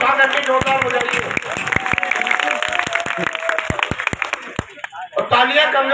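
An audience at a poetry recital during a Bhagavat Katha gathering in Sitapur claps loudly with hands raised, a dense burst of applause with sharp individual claps standing out, briefly thinning near the end before resuming, with voices underneath.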